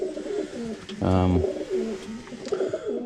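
Racing pigeons cooing in a cage, a clear burst of layered throaty coos near the mic around the middle, with softer cooing and faint bird calls on either side.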